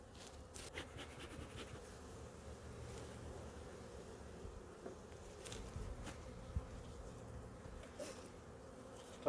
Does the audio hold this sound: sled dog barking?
no